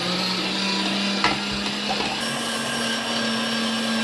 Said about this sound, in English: We're gonna turn the grinder on and just start going.